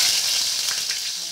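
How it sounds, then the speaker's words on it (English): Onions dropped into smoking-hot oil for a meat pie dinner, a bright, steady hiss of sizzling close up, loud and unbroken with no talking. "So the oil is hot. You can see the smoke there. So the oil is... I'm going to put the onions."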